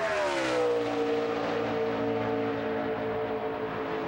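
A NASCAR Nationwide Series race car engine hums steadily at a low idle, a sustained droning tone that slowly sags in pitch as it rolls down the back straight at the 2012 Dollar General 300 qualifying.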